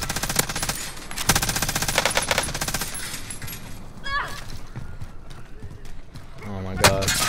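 Rapid automatic gunfire from a Warzone firefight rattles in dense bursts, close and loud, with a short lull and a final burst, while players shout over it.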